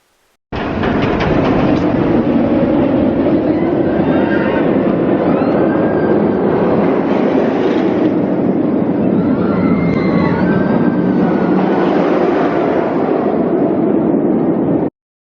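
Roaring, rattling rumble of a roller coaster speeding along its track, steady and loud, with faint high screams riding over it.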